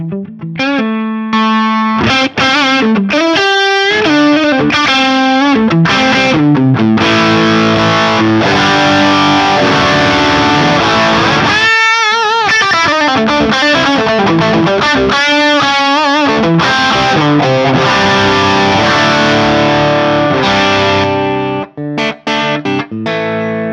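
A driven electric guitar lead tone on the neck pickup runs through an Electric Eye Audio Mud Killer pedal, playing sustained distorted melodic lines and quick phrases alone, loud and continuous with a few short pauses.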